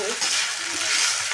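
Soaked sabudana being mixed in a frying pan with fried tomato, a soft steady sizzle with scraping and stirring close by.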